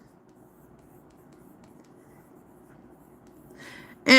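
Pencil writing on paper for a sketch: a soft, continuous scratchy scribbling close by, ending in a sudden loud tonal burst at the very end.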